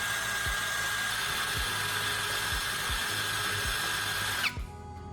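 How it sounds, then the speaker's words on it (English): A power drill spins a carbon rod with sandpaper pressed against its tip, a steady high whirring grind with faint rhythmic low thumps, close and continuous before easing off at the end. "using sandpaper pressed against the spinning tip, I'm refining it."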